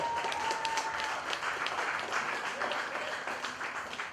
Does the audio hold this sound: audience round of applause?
yes